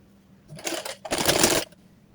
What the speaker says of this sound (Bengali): তো এ বেলায় আমি এখন এই চওড়া করে একটা সেলাই দিচ্ছি